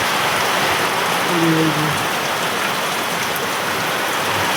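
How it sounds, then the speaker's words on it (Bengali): Heavy rain pouring steadily outside a house, a dense loud hiss with no pauses, heard through a window, with a brief low murmur partway through. "এই যে কী পরিমাণে বৃষ্টি পড়তেছে"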